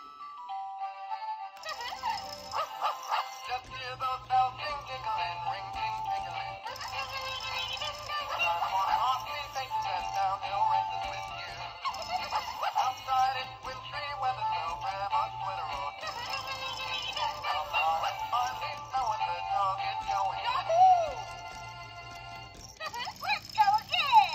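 A 2007 Hallmark Jingle Pals set of animated snowman, penguin and dog figures plays a tinny electronic tune with mechanical whirring and rattling as they move, continuous and close, with brief talk at the end.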